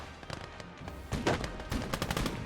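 Anti-tank weapons fire in a video game battle as a rapid, crackling series of shots and bursts. The fire starts sparse and faint, then grows denser and louder in the second half.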